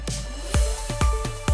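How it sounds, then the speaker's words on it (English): A reversed synth drenched in heavy reverb swells in repeated pulses, about four rising whooshes each ending in a sharp thump, full and electronic, with a low sustained tone beneath. "I got a reverse synth from one of Casper's packs and rendered it out and put it at the end."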